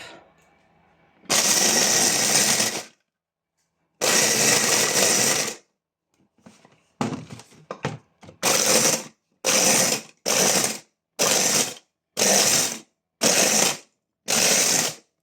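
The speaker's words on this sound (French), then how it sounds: "On met tout à mixer. On va tout mixer, ça va être plus simple pour nous." Blender mixing egg-free tiramisu ingredients, including cocoa powder, loud and close: two long whirring runs, then a series of short, evenly spaced pulses separated by silence, with no talk.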